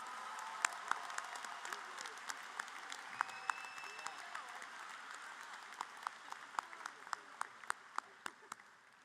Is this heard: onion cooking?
no